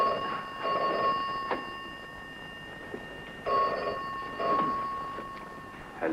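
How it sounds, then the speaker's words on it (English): A telephone bell rings in two separate bursts with a quiet pause between them, clear and fairly close. "The telephone's ringing."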